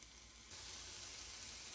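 Carrots and celery sauté in a pot for a soft, even sizzle that jumps louder about half a second in and then holds as a steady close hiss with light stirring.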